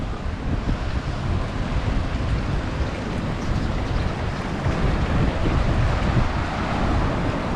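Steady, loud rush of ocean surf at a beach in Seminyak, Bali, mixed with heavy wind buffeting the microphone, continuous with no talking.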